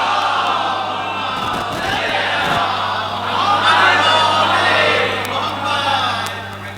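A crowd at a majlis recites salawat together in unison, a loud massed chant of many voices rising and swelling together, with a steady low hum underneath and the chant building toward the middle.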